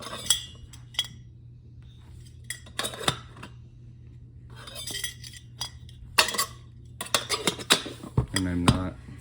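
A GSI Ketalist camping kettle is handled, giving scattered sharp metallic clinks and knocks that grow busier toward the end, over a low steady hum.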